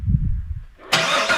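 A modified car engine starting: a short low rumble of cranking, a brief pause, then the engine catches with a sudden loud roar that settles into a rough running note, close by.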